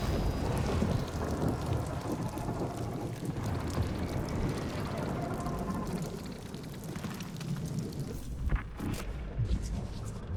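Steady rain with rumbling thunder in a stormy outdoor area of the video game Guardians of the Galaxy, a dense continuous wash throughout with a couple of heavier swells near the end.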